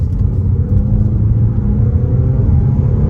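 A 2022 Mazda CX-30 Premium accelerating hard in second gear during a test drive, the engine a loud, steady, low rumble that builds under throttle from inside the cabin, with no talking.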